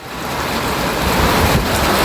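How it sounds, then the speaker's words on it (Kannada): Steady rain pours outdoors where a cricket game was about to start, a dense continuous broadband wash with no talk. "ನಾನು ಆಡೋಕ್ಕೆ ಬಂದಾಗಲೇ ಮಳೆ"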